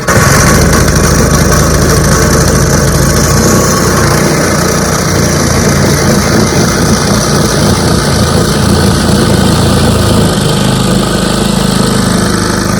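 A small wooden motorboat ferrying several passengers across the Kuttanad backwaters in Alappuzha runs its engine at a steady, loud drone throughout, close by with no break in the sound.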